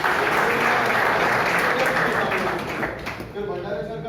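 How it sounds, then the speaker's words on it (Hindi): A seminar audience at a college event gives loud, dense applause for a teacher, the clapping thick at first and thinning slightly toward the end. "ओमकरण सर के लिए एक ताली हो जाए पहले"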